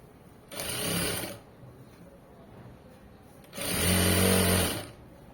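An electric sewing machine runs in two short bursts of rapid stitching, each about a second long and close up, separated by a quiet pause.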